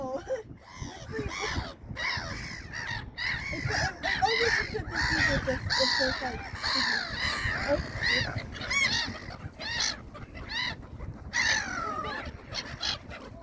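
Wild birds in Sweden in spring, geese and crows, honk and caw loudly and repeatedly close by during feeding, with a busy overlapping chorus and people talking in between.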